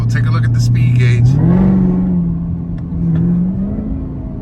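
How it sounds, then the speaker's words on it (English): Chevrolet Camaro ZL1 (2019) engine revving loud and close, pitch rising as it downshifts, then holding a steady drone, with talk over it early on. "you heard that downshift"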